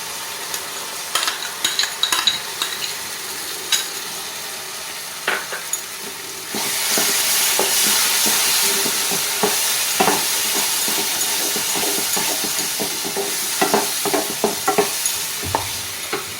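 Cashew and raisin paste fries with onion and ginger in a pan, a loud, close sizzle that swells midway as the paste goes in, broken by repeated scraping and clinking stirs of a spoon.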